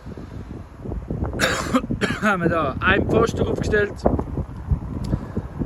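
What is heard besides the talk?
wind blowing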